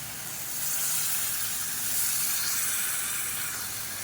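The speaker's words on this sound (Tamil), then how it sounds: "இப்போ மசாலா எல்லாமே நல்லா வதங்கிடுச்சு இப்போ தேவையான அளவுக்கு இதில் தண்ணி சேர்த்துக்கலாம்" Water poured into a pan of hot sautéed tomato masala, giving a steady broad hiss and steam-like sizzle that swells slightly and holds throughout, close and with no talking.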